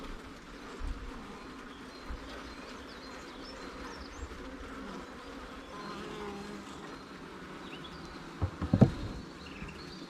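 Honey bees from a swarm hum and buzz steadily around a cheap homemade swarm trap, a soft continuous drone close by with a few louder thumps and handling bumps near the end.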